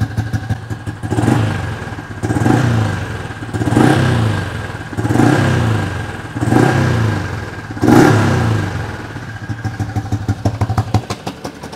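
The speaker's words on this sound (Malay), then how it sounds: "bunyi senyap untuk exhaust" A motorcycle engine revs repeatedly in rhythmic surges, about six rising pulls with deep exhaust rumble, then settles into a fast idle.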